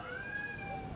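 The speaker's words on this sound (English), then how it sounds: "Just my cat complaining for no reason." A pet cat meows in a faint, drawn-out complaining tone, heard briefly over the steady hum of Battlefield 4 gameplay sound.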